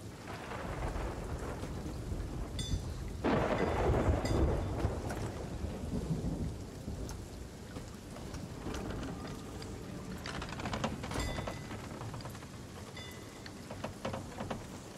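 A thunderstorm in the PC game Fate of the Damned, with steady heavy rain hissing throughout and a deep rolling thunder rumble swelling early and again later, with no voices.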